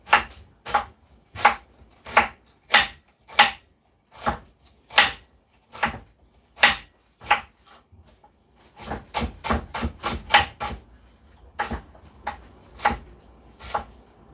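Knife chops food on a cutting board in loud, crisp, close strikes, first at a slow even pace, then in a quicker burst of rapid cuts before slowing again.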